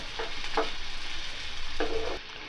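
Onions, cumin and mustard seeds frying in a pan for poha upma, giving a steady close sizzle with a few brief crackling bursts and stirring noises, with no talking.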